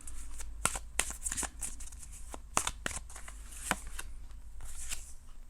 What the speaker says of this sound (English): Let me pull a couple more here and see.